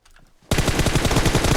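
Gunfire in PUBG Mobile: after a faint quiet moment, a loud close burst of rapid automatic shots rattles on steadily, with no talking over it.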